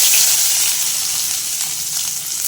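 Ginger hits a hot pan for begun bhapa and sets off a loud, bright, hissing sizzle that tapers slightly over a couple of seconds, close by with no voices.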